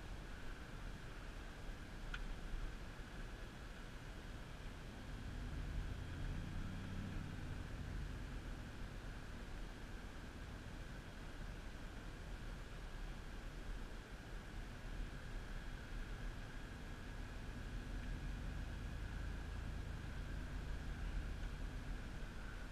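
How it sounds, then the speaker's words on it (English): The air conditioning in a 1999 GMC Yukon SLT gives a steady, broad fan hiss inside the cabin, with a low engine and road rumble underneath and no talk. "Let's try and get the AC going because it's kind of hot this morning or this afternoon."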